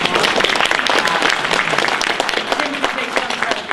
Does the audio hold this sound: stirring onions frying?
no